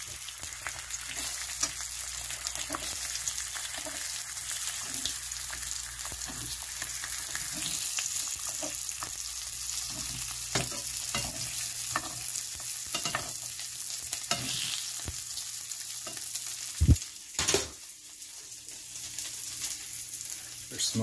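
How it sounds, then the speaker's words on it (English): Pepperoni slices sizzle and fry in a pan with a constant crackling hiss, broken by the scrape and clatter of a utensil as they are flipped, loud and close throughout. "Gonna flip these pepperonis here."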